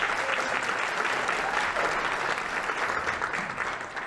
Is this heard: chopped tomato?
no